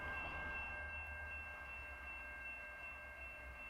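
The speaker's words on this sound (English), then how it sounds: "7226 is one of the former Conrail SD80 Macs which NS acquired from CSX a few years ago." Norfolk Southern locomotive 7226, a former Conrail SD80MAC, moving through Dalton, Georgia: a faint, distant low rumble with a thin steady high whine, continuous and even throughout.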